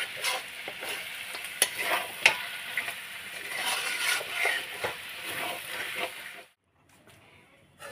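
Cauliflower stalk curry sizzles in a pan on a gas stove while repeated scraping stirs sound close and loud. The sound cuts off abruptly toward the end, leaving quiet.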